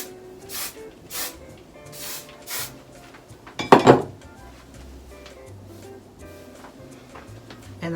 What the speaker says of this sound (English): today I'm just going to use my Kenra volume spray. It's a hairspray basically